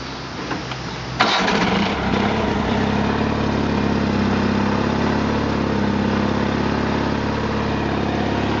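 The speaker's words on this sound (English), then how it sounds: "which requires me to crank the tractor." A John Deere lawn tractor engine cranks and catches, then settles into a steady, loud idle nearby with a continuous low rumble.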